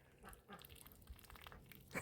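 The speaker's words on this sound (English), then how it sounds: "She's the loudest drinker of all the ducks." A duck drinking water in a shed, with loud, repeated slurping and dabbling sounds in quick irregular bursts, close to the listener, with no talk over it.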